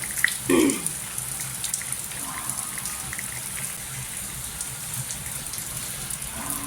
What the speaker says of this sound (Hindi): तेज वाली बारिश होगी है शुरू